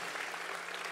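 Church congregation applauding together during a worship service, a dense steady wall of clapping that fills the whole moment without pause.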